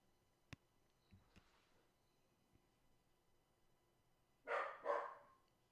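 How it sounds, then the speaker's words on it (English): A dog gives two quick, fairly loud barks in a quiet room near the end, after a few faint taps and clicks. "I don't know what he's barking at."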